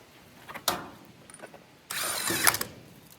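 SEES II cordless 1/2-inch impact tool tightening lug nuts on a new trailer wheel, a short burst followed by a longer hammering rattle of about half a second, close and loud with no talk.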